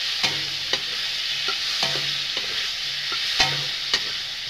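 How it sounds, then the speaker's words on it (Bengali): Fried potatoes are stirred in a hot pan, a steady close sizzle broken by about seven sharp spatula scrapes and knocks at a loose, uneven rhythm, with no voices. "এখন আলুটা আমি দিয়ে নেব। আলুটা দিয়ে নাড়াচাড়া করে নেব আমি।"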